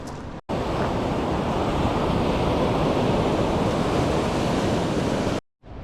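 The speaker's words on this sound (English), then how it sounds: "big waves" Big ocean waves crash steadily on the rugged shore of the West Coast Trail as a loud, continuous roar of surf with wind rushing across the microphone. The sound cuts off abruptly at both ends.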